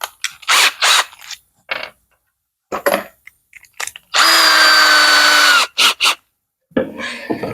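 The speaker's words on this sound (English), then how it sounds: "Don't want to drill the holes too much oversized." A power drill bores holes for an RV solar panel install on a Thor Quantum motorhome, several short bursts of whirring followed by one long, steady high-pitched run, with silent gaps between, loud and close.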